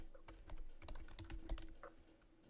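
Quick, irregular keystrokes clatter on a computer keyboard while entering data into an Excel spreadsheet, close and quiet, with no talking.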